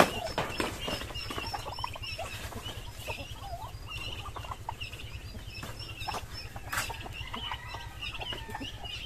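A flock of turkeys and other fowl gobble and cluck continuously, a busy barnyard chorus with a low steady hum beneath.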